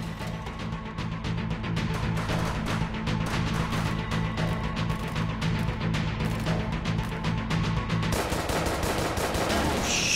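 Rapid, continuous pistol gunfire in the VR shooter Hot Dogs, Horseshoes & Hand Grenades, loud and close, with shots cracking in a dense rhythm throughout and a brief shift in tone near the end.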